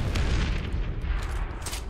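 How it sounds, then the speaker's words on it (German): A grenade blast in the zombie game Dead Island Riptide gives a deep, rumbling low boom that rolls on for a couple of seconds, dull and heavy rather than sharp, with no voices over it. "Ich habe eine Granate geworfen."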